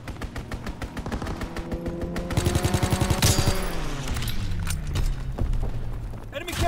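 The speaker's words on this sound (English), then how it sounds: "Enemy strafing run inbound." Video game strafing run, a fast stream of rapid gunfire shots under an ongoing game soundtrack with tonal drones and a swelling boom partway through, continuous for several seconds.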